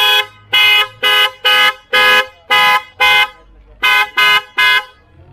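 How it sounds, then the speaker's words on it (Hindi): An aftermarket horn fitted to a Tata Harrier blares in a series of about ten loud, short blasts with brief gaps between them, close and alone with no talk. "चलिए अब इसका हॉर्न चेक करते हैं, जो भी इसमें हॉर्न लगाया।"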